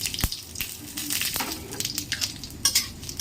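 Cumin, dry red chilli and bay leaf sizzle in hot oil, a soft steady crackle broken by sharp clinks and scrapes of a spoon stirring, close and without talk.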